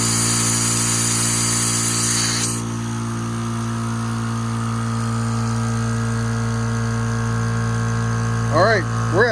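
An air compressor runs off a Segway Power Cube 1000 portable power station, giving a loud, steady mechanical hum and drone that shifts once early on, with a short burst of talking near the end.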